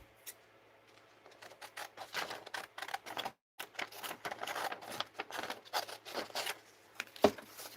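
Scissors snipping through paper scraps at close range, a quick irregular series of crisp cuts with a brief pause midway and one sharper click near the end, no talking.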